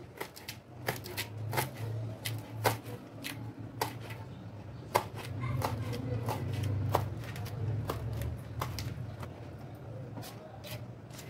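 A knife chops fresh coriander finely on a board, with quick, irregular light taps repeating steadily and close, fairly soft, with no talk.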